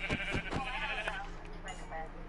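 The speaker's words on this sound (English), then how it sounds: "There's two sheeps over here" Minecraft sheep bleating several times in quick, wavering calls over the first second, then quieter game sounds with a voice speaking lightly underneath.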